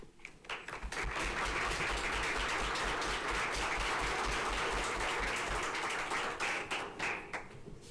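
An audience at a county board of education meeting applauds a certificate recipient. The clapping is loud and dense and runs for several seconds before thinning out into scattered claps.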